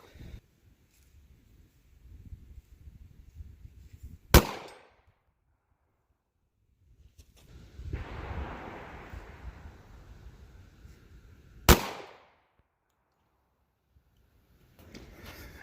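Two sharp, loud .45 ACP pistol shots of Ammo Inc Blackline 230-grain hollow points fired into ballistic gel outdoors, spaced several seconds apart, with rustling and handling noise between them.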